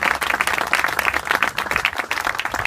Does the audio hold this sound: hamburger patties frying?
no